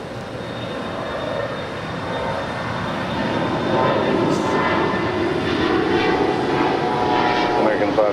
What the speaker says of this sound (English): Air Canada Flight 774 heading to Montreal and an A330 300